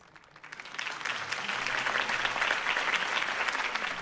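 Crowd applause swells after a Harvey Dent campaign speech in the Batman Telltale video game, starting faintly and building within a second into steady, dense clapping that holds loud to the end.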